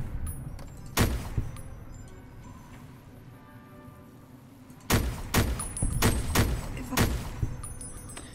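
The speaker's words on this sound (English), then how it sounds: "The Free World is an interesting FAL that shoots some type of energy damage with its own custom sound" Modded FN FAL rifle in Fallout: New Vegas firing energy rounds with a custom sound: one sharp shot, then after a pause a rapid cluster of several loud cracks over low game ambience.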